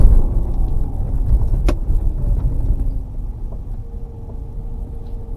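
A 21-plate Ferrari sports car climbs steep Hardknott Pass, its engine a deep rumble that is loud at first and then fades as it pulls away up the hill.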